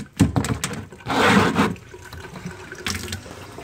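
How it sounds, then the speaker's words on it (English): Hot water runs from a tap into a sink in a short, loud gush after some brief clatter, then fades to a quieter trickle. "We're gonna get some hot water going here."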